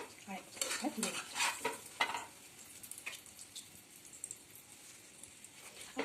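A potato-stuffed aloo paratha fries in a pan, with a few close scraping and turning strokes at the start, then a soft, steady sizzle that carries on quietly.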